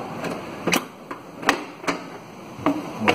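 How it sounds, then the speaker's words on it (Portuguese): Sharp metallic clicks and taps from a 10 mm open-end wrench loosening a screw during headlight removal on a Citroen C3, about eight irregular close knocks spaced under a second apart against a quiet background. "Vou tirar esse parafuso daqui."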